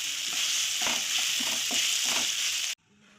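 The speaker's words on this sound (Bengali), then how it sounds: "এই সোয়াবিনটা ভাজবো।" Soybean chunks, soaked and coated with salt and turmeric, fry in hot oil with a loud continuous hiss and some stirring scrapes. The sizzle stops abruptly near the end and only quiet room sound remains.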